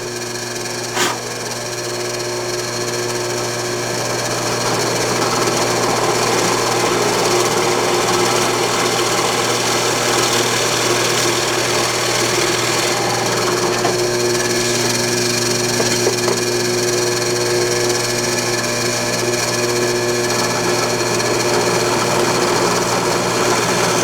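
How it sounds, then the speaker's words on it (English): A drill bores a row of holes for a mortise in wood, a loud, steady motor drone with grinding texture running nearly unbroken throughout. "so now all the holes are drilled"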